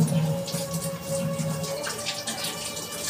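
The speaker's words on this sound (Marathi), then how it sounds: "समीक्षाला बरोबर 1 तास लागतो भांडी घासायला." Tap water runs steadily into a sink during dishwashing at home, a continuous close splashing hiss with some clatter underneath.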